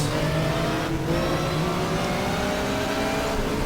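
Race car engines roaring in the GTR2 racing game during a 1987 WTCC touring car race at Wellington, with a loud sustained engine note and shifting revs as cars like a Toyota Corolla and Holden Commodore run close together.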